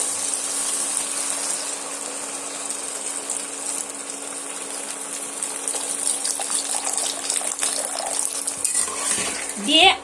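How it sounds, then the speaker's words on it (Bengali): Water pours steadily into a pan of fried egg and potato for gravy, a continuous hissing gush lasting several seconds and ending with a brief clatter. "এবার আমি গ্রেভির জন্য আমি এখানে পানিটা দিয়ে দেবো"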